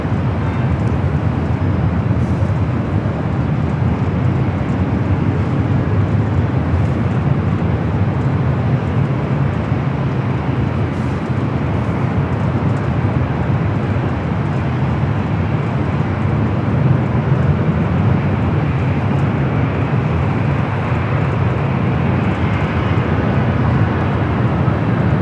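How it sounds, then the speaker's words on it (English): A Boeing 747-8 freighter arriving from Mexico City lands at LAX, a loud continuous broadband jet roar that holds steady throughout with no voices. "747-8 freighter up next for arrival there on the south."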